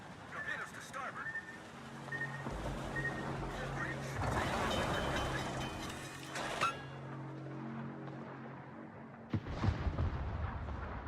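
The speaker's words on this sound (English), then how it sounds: "Here come the torpedoes for me." Torpedo explosions hit a ship in the World of Warships game as heavy booming blasts and rumbling water bursts, loud and layered over game engine noise, with someone talking throughout.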